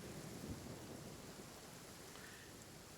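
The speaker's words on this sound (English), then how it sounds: "Oh, it's raining now." Rain and thunder in the video game Genshin Impact, a faint, steady rain hiss with a soft low thunder rumble near the start.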